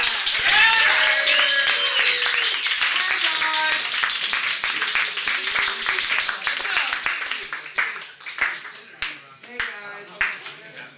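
A live concert audience applauds and cheers for the performers. The clapping is loud and dense at first, with whoops and voices mixed in, then thins into scattered claps toward the end.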